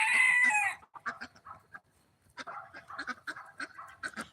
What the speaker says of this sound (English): he's a rooster, so you'll hear him cock-a-doodle-doo.